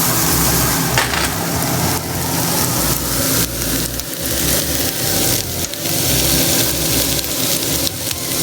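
Red onion, sweet onion and garlic fry loudly in a pan for a vegan pot pie filling, a steady dense sizzle with scraping stirs and occasional clatter, close and continuous with no talk.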